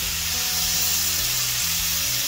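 Ground cumin paste fries in hot oil in a pan for a Bengali katla fish curry with ridge gourd and potato. The sizzle is loud, close and unbroken throughout.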